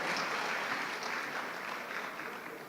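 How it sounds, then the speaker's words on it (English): An academic conference audience applauds a professor receiving an award, with a soft, continuous wash of clapping from a moderate crowd heard at some distance, slowly tapering toward the end. "please give applause to Professor Tiziana Rossetto for the award"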